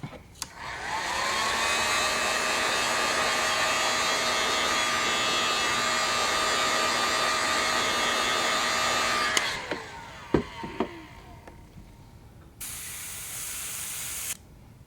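A heat gun blows steadily to set freshly airbrushed paint on a perch-pattern lure, a loud whooshing drone lasting several seconds, then a few clicks and a short second burst of blowing.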